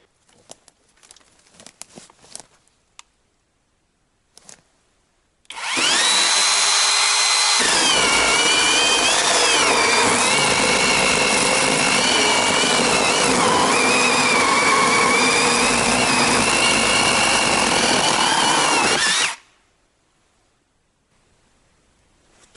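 A loud electric chainsaw cuts wood steadily for about fourteen seconds with a harsh buzzing whine that shifts in pitch, then stops abruptly, leaving near silence.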